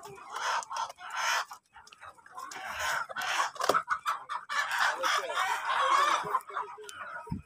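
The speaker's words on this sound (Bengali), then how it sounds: "আসলে আমরা এই বাজার থেকে মুরগি কিনবো" Live chickens at an open-air market in Poland cluck and crow in loud, dense bursts close by, with brief rooster calls standing out from the busy flock noise and a faint murmur of people in the background.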